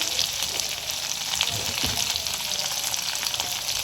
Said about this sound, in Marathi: याच्यामध्ये धणे आणि मिरची ठेचून घेतलेली आहे ना, ती घालून घेऊया.